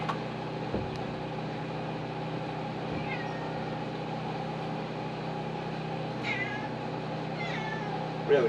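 A cat meows a few times, faint and short, over a steady hum in a woodland building site where a tiny pallet house is being framed.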